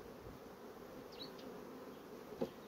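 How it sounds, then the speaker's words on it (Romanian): Honeybee drones hum steadily at an open hive, a faint, continuous buzz with a couple of brief louder passes as individual bees fly close. "Aici sunt trântori."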